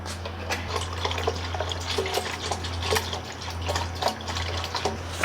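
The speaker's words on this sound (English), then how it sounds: "I need to add a little bit of coolant because that is not enough for this car" Liquid coolant pours and gurgles into a MINI Cooper S cooling system, a steady splashing trickle with small drips, close up over a low constant hum.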